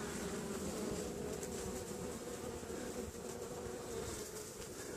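Honeybees buzzing steadily as they fly into their hive in autumn, a dense continuous drone of many wings close by, carrying on without a break.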